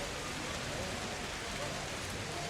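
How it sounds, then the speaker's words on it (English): Heavy rain pours down in a steady, dense wash during a thunderstorm over a town, a continuous broadband hiss with no distinct thunderclap standing out. "it is pouring rain and flashes of lightning and thunder accompanying"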